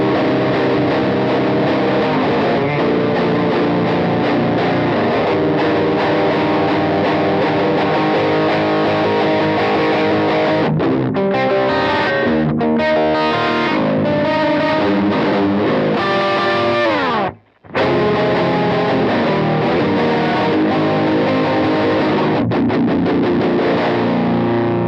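Lower chords on a high-gain, extended-range electric guitar played through a Strymon Iridium amp and cab simulator, thick distorted strums ringing continuously and loud, with one brief full stop near the end before the playing resumes.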